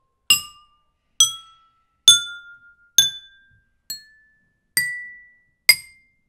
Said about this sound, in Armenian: Մենք, ես, Մարկը եւ Հայկը միասին բաժակների մեջ լցրել ենք ջուր, այնուհետեւ ստացել ենք նոտաներ